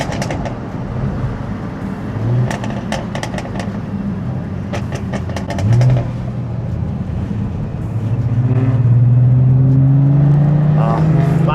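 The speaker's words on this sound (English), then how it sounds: "I love that GTR growl" A Nissan GT-R Nismo exhaust, a 4-inch SBD system, growls and rises as the engine revs louder toward the end, with clicks and rustling noise throughout.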